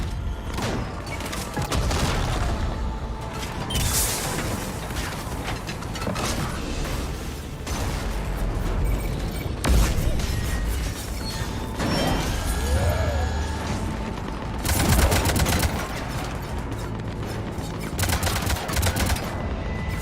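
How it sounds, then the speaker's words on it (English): Ship cannons fire in the Mass Effect 3 video game, sending repeated booming blasts and rattling bursts over a dense, busy bed of mechanical and battle noise that runs continuously. "Cannons engaged."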